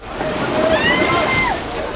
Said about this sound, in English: The waves were huge today